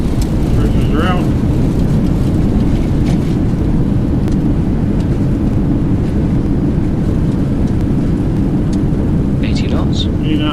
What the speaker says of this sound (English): Still on the reversers, going over to manual braking.